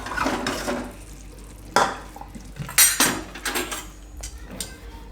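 A pot of chana methi curry comes off a gas stove with clattering metal knocks and scrapes, a few sharp clanks and rattling bursts over a faint background hiss.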